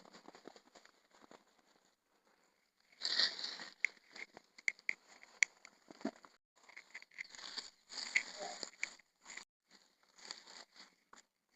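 Dry, shrivelled sweet corn leaves dropped by hand into a garden bed of soil, giving soft crackling, rustling patters in short bursts, close and fairly quiet.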